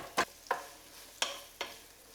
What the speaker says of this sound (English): Just get in there with a wooden spoon and break up those onions.